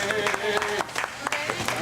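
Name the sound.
audience applause for Tony the toy store manager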